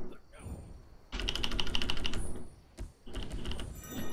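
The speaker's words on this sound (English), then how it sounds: "I was spamming the fuck out of that on my keyboard" Computer keyboard keys spammed rapidly during a ranked 1v1 duel in the game Smite, dense bursts of clicking taps in two clusters, close and fairly quiet, with a voice talking around them.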